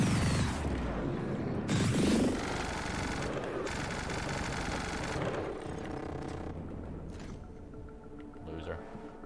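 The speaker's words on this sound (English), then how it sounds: "I'm gonna shoot you now." Gunfire from The Outer Worlds: Spacer's Choice Edition, loud mechanical rattling bursts and clanks in a busy game soundscape that fade out toward the end, with speech mixed through.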